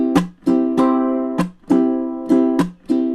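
Ukulele strummed in a steady pattern, ringing chords broken by short, percussive muted chucks on beats 2 and 4, bright and close with no talking.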